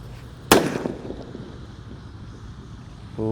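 A purple disco happy flower firework set off outdoors, heard as one sharp loud pop followed by a brief crackling decay over windy background noise.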